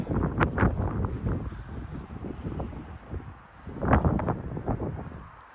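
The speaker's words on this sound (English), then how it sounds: "it's very windy in here" Strong wind gusts rush and roar through an abandoned 1920s hospital, with rattling and knocking noises surging in two louder bursts.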